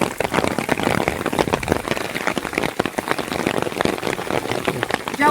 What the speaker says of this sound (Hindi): तो बारिश तो बंद नहीं हो रही है